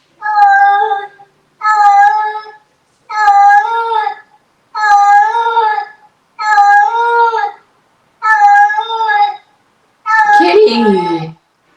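A cat meowing seven times in a regular, evenly spaced series of loud, close, drawn-out cries, the last one wavering and more strained.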